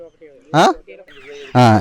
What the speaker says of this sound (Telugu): ఇక్కడ మనం చూసుకున్నట్లయితే ఇక్కడ టర్కీ కోళ్ళు ఉన్నాయి